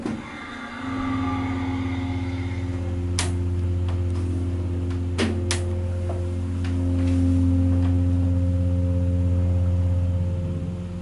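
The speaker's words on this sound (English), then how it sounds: "Let's listen to the motor one more time." A steady low mechanical hum of a brand-new Kone/MCE hydraulic service elevator motor at King of Prussia Mall runs throughout, with a few faint clicks and ticks over the drone.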